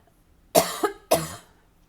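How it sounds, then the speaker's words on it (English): Close, loud coughs from someone with congestion while recovering from COVID, two sharp bursts in quick succession followed by a third, in an otherwise quiet room. "there's still that congestion and that cough"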